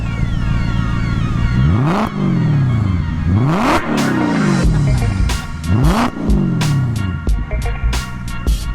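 A 4.2 liter Audi S4 V8 swapped into a Dodge Grand Caravan revs repeatedly, each rising blip falling back with crackling burbles, loud and close, the short bursts repeating about every second or two.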